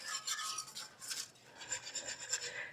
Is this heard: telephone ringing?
no